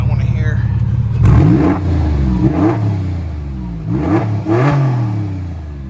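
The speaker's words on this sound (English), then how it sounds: "Give it a quick rev." A 2002 Porsche 911 with a manual gearbox is revved in quick blips, its flat-six rising and falling three or four times in throaty bursts close by, with talk over it.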